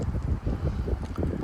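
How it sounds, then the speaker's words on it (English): Gusty night wind of about 30 mph in Frisco, Texas, buffeting the microphone as a steady, rumbling rush that swells and eases without pause. "We can continue filming these wind gusts."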